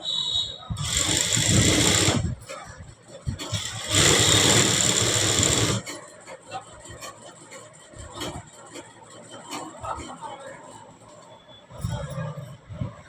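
A sewing machine stitches a normal blouse, running in two loud bursts of steady mechanical whirring, then quieter intermittent clatter and handling noise with a short final run near the end.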